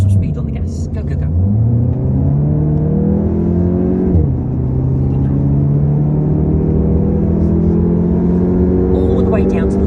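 A Volkswagen GTI Mk8 in full sport mode accelerating hard on the Nürburgring, its engine rising in pitch through a gear change and pulling up again, loud from inside the cabin with a voice briefly speaking at the start.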